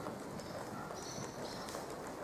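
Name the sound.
horse trotting, hoof clip-clop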